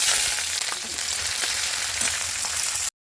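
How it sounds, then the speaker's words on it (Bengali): Chopped onion and green chili sizzle in hot oil in a wok, a loud continuous hissing fry with faint crackles, heard alone. "কড়াইতে তেল গরম হয়ে গেছে এবার পেঁয়াজ লঙ্কা কুচি"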